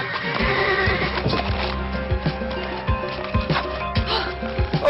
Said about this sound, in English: And the horse walks into the fucking chapel.